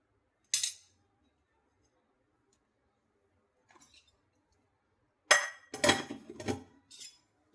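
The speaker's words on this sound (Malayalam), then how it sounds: "ഇതൊന്ന് ഇളക്കി കൊടുക്കുക ഇളക്കി യോജിപ്പിക്കുക" A spoon stirs onion, ginger and green chilli into urad dal vada batter, making sparse, sharp clinks against the bowl: one early tap, then a close cluster of quick knocks near the end, with silence between.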